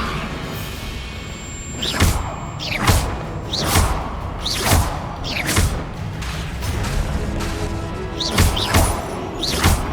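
Levioso levitation spell effects in the Hogwarts Legacy video game, a series of repeated whooshing casts with thudding impacts, roughly one every second, over a busy game soundscape.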